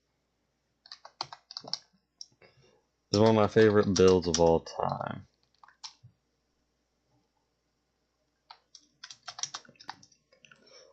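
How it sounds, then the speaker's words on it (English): Bursts of quick keyboard typing and clicking near the start and end, as someone types while improvising, with a stretch of talking in between. "I'm actually improvising this and typing it down at the same time."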